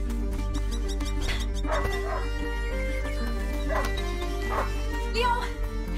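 A hunting dog in the video game A Plague Tale Innocence yips, whimpers and gives short barks over a steady low background drone, with a voice speaking partway through.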